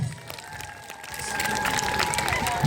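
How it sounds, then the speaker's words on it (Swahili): Applause from a congregation during a Swahili-language church service, a dense, continuous clatter of many hands swelling in volume and sustained throughout. "Makofi kwa Yesu"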